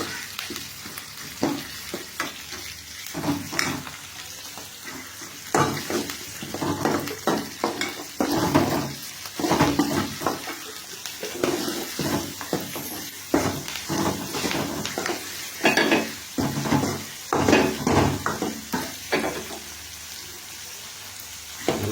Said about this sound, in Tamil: வெங்காயம் நல்லா அரிஞ்சு வச்சுருக்கோம். அதையும் போட்டு ஒரு வதக்குறோம்.